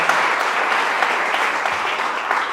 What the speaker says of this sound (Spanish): Den ese fuerte aplauso a Él en esta tarde.